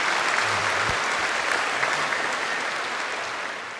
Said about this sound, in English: We're definitely in the applause phase